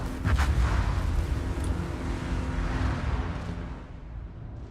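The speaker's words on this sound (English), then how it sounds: "And here comes the final torpedo." Torpedo strike on a ship in World of Warships, a battleship-only tournament match: a loud, deep rumbling boom that swells in the opening second, then rolls on as a long, heavy roar slowly fading away.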